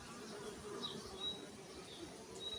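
Soft, continuous buzzing of honeybees feeding a queen bee, faint and steady, with a few higher whines passing close by.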